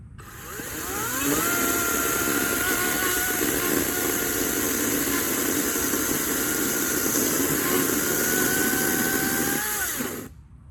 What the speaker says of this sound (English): Now I've read the safety manual and I'm ready to use the chainsaw.